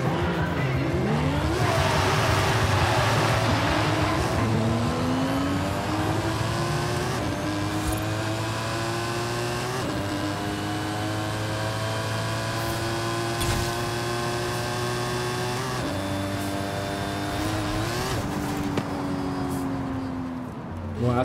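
A car engine in Forza Horizon 5 revs hard on a drag strip, climbing through gears in repeated rising whines, loud and close, with brief tire noise.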